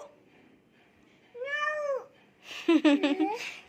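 A young voice imitates a cat with a drawn-out meow, followed by a second, more wavering meow-like cry, close up in a quiet room.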